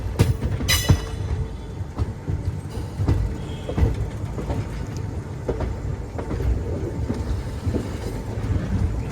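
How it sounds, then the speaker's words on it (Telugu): A Secunderabad–Visakhapatnam Vande Bharat Express rolls past a station at Vijayawada Junction with a continuous rumble and rhythmic wheel clicks, plus a brief high squeal near the start. "అటువైపు ఏదో ట్రైన్ వచ్చేస్తుంది."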